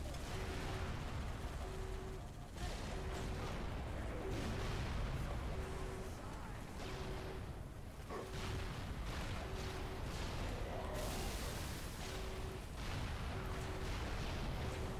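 Gunfire in the video game Halo 3, repeated shots and blasts in a dense ongoing firefight, loud and continuous throughout with a regular pulsing tone underneath.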